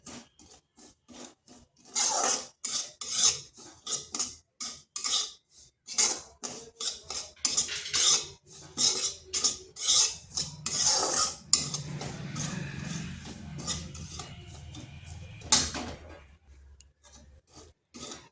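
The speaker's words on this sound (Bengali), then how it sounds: "এরপর সুজিটা একটু ভেজে নিচ্ছি আর আঁচটা কিন্তু স্লো আঁচে রাখতে হবে" Semolina stirred and lightly fried in a pan over low heat, giving repeated dry scraping and rasping strokes of a utensil against the pan in an irregular rhythm, close and moderately loud with no talking.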